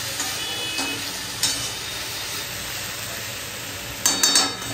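Shola kochu taro fries with salt, turmeric and green chillies in a pan, giving a soft, steady sizzle with a few brief clinks of a stirring utensil, no voices.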